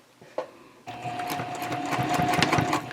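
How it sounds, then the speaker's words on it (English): A sewing machine runs steadily for a couple of seconds, stitching around the top edge of a fabric tote bag at a 3.0 stitch length, after a brief click as it starts. "I'm going to start sewing around, and I do like to start near one of the side seams."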